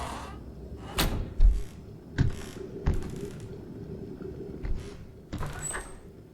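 Irregular knocks on a door in a horror video game, landing as a handful of separate heavy thumps over a low ambient rumble.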